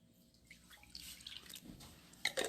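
Quiet milk pouring and dribbling into a mixing bowl for a pumpkin and butternut squash bake, a soft trickle with a few drips and splashes toward the end.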